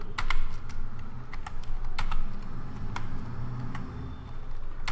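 Rapid typing on a computer keyboard while entering an After Effects expression, crisp clicking keystrokes in quick irregular bursts, close and clear over a low background hum.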